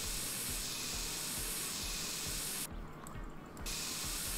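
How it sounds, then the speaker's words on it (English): An aerosol can spray-paints a shelf grey in the game My Summer Car, a continuous loud hiss that briefly dips near the end, with no talk. "We can spray paint the shelf."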